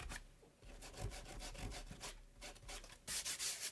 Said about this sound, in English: I use the rubber cement pickup. I just rub that off like that. That removes the masking fluid.